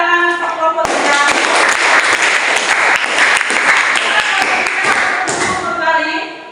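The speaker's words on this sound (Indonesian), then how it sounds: "kita berikan tepuk tangan untuk kelompok 3" A classroom audience claps for group 3: after a brief voice, loud dense applause rises suddenly and holds for about five seconds, then fades as talking resumes.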